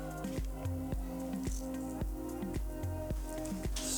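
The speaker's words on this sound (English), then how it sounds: "Stir all that together." A spoon stirs a lobster sambo filling bound with sour cream, lemon juice, pickles and capers, giving soft wet squishing at a steady rhythm, quiet and close, with no talking.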